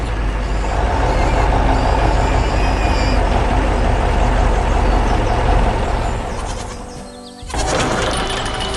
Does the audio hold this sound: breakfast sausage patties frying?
no